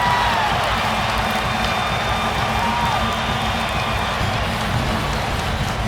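A basketball arena crowd at a Brooklyn Nets–LA Lakers game roars and cheers after a made corner three-pointer, a steady loud wash of noise with no break.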